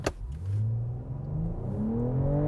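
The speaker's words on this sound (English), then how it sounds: "I want to try a launch without launch control" A BMW M440i launching hard from a standstill without launch control: the engine note climbs steadily through the gears in a loud, close, continuous rising roar with a brief shift dip partway through.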